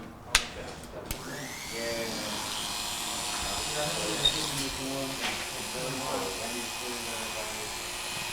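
Oster electric hair clippers buzz steadily through a haircut, a close continuous hum with a few clicks at the start while people talk over it.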